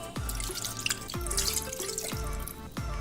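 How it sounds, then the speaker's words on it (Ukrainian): Marinade sauce poured over chicken wings in a multicooker bowl, a close, steady liquid pour with drips and splashes, broken by a few sharp low thumps, with no talking. "Викладаємо крильця в чашу мультиварки, заливаємо соусом, в якому вони маринувалися."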